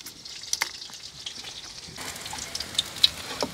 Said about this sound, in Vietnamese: Cá linh chiên xù nha mấy bạn.